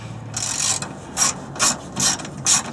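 Ratchet clicking as a 10mm deep socket works on a car battery terminal, a few quick bursts of ratcheting followed by four distinct, evenly spaced clicking strokes, close and fairly loud with no talk.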